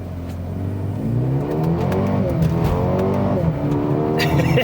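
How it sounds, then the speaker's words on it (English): A 2021 Mercedes-AMG GLB 35 on a hard launch in race start mode, its engine revving up loud and close with a rising roar and rough exhaust burble, harmonics climbing steadily and a faint tire squeal near the end. "when you floor it, oh, there's quite a bit of noise that comes from that exhaust"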